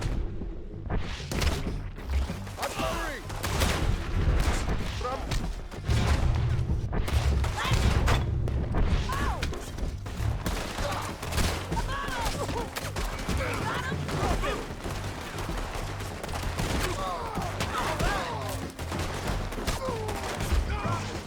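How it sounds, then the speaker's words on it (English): Gunfire exchange in Red Dead Redemption 2, dense bursts of shots and thuds over layered game ambience and music, with a voice talking at times. "I had no other choice but to shoot and kill the enemies"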